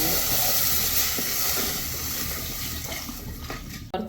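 Steady rushing, hissing water sound close by as spice-paste water is poured continuously into a Kerala mackerel curry pot, ending with a brief clunk.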